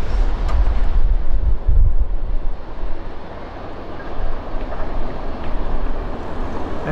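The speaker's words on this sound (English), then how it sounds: "Train is NS 315, Norfolk Southern" A Norfolk Southern freight train rolls past loudly and steadily, a continuous heavy rumble mixed with wind buffeting the microphone.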